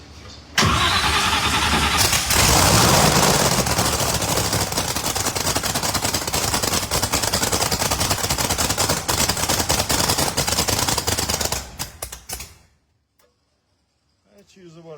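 A Mustang race car, the small tire Suge Knight build with a freshly done engine, fires up loud and close, then runs with a rough, aggressive idle and throttle blips for about eleven seconds before shutting off into near silence.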